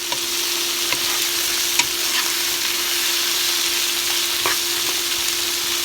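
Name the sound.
sautéing vegetables in a pan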